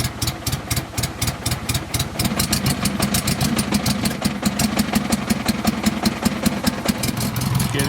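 A Honda Goldwing motorcycle engine idles on choke as it warms up, a loud, close, steady pulsing rumble with rapid even firing beats throughout.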